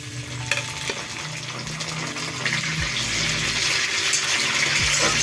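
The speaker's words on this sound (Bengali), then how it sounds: "দিয়ে দেবো কেটে রাখা টমেটো" Chopped tomatoes go into a pan of frying onions for a jackfruit and prawn curry, bringing a steady wet sizzle that grows slightly louder and stays constant, close up with no talking.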